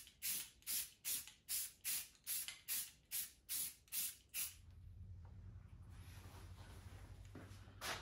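Sealant sprayed onto a magnum-size cork-bodied drake canvasback hunting decoy, in about ten evenly spaced, loud hissing bursts from an aerosol can, followed by a steady low hum and faint hiss.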